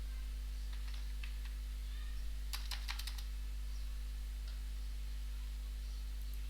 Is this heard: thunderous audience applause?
no